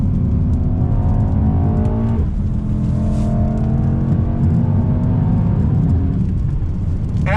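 A 2021 Mercedes-AMG E63 S wagon drives hard through twisty roads, its engine a loud, steady close roar with rising pitch and brief dips at smooth gear shifts.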